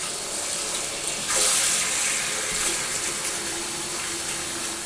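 Water runs steadily from a bathroom faucet into a new vanity sink top, a continuous hissing splash that swells briefly louder as the flow strengthens, then settles into an even rush.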